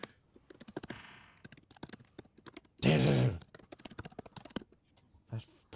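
Rapid clicking keystrokes on a computer keyboard tap out an uneven typing rhythm close up, broken by one brief loud rustling burst, with a single short spoken word in between.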